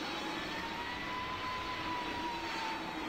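An airplane engine in the Roblox flight game PTFS drones steadily with a loud jet-like whine and a constant tone, with no talk over it.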